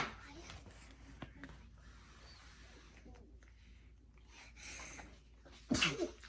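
A single sharp sneeze bursts out near the end after a quiet stretch of soft breathing and faint background noise.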